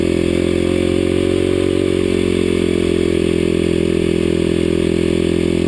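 A Kawasaki KLX250sf motorcycle climbs a steep mountain road, its single-cylinder engine droning loud and steady up close with a constant buzzing hum and wind rumble, no speech.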